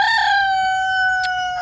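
Roosters on a small farm crowing loudly and close, a sustained harmonic crow with chickens clucking faintly beneath, heard on their own without talk.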